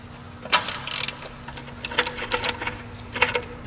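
Quarter-inch ratchet loosening a 10mm bolt on the expansion tank assembly of a 2002 Chevrolet Cavalier, giving several quick bursts of clicking pawl strokes at close range, with short pauses between them.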